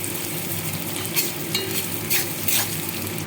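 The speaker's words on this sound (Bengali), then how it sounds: "পেঁয়াজ কুচিটা আমি একটু ভেজে নেব" Chopped onions frying in hot oil with panch phoron in a pan, a steady close sizzle with several short bursts of scraping as they are stirred.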